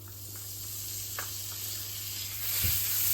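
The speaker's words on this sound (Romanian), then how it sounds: "Și acum la tigaie o să adăugăm niște unt." Butter melting in a hot frying pan gives a soft, steady sizzle and hiss, with a few small pops and a brief louder spatter near the end.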